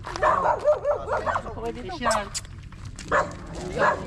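A Rottweiler barks in a quick series of deep woofs close by, then a couple more single barks, with people talking around it.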